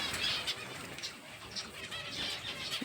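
Pigeons and other birds gather at a water and grain bowl during cold weather, the birds somewhat weakened; a steady run of high chirps and calls, fairly close, with soft flutters and no talking.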